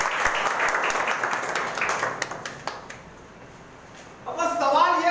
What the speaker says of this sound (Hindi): एक बार जोरदार ताली दे दीजिए